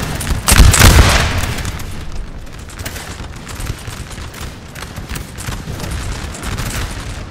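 Musket volleys ring out during the 1810 siege of Astorga in Napoleon: Total War as French troops fire on Spanish defenders. A loud, booming massed volley gives way to a dense, continuous crackle of scattered distant shots.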